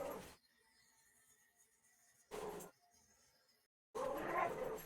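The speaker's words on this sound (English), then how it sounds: "if I don't play with Daisy, she's gonna start barking louder and louder" Two short, faint yips from a dog, separated by quiet pauses, followed by a burst of louder sound at the end.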